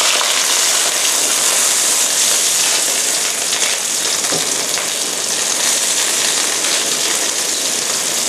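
River prawns sizzle in hot oil in a wok for pad thai, giving a loud, steady, close crackling hiss that runs unbroken throughout.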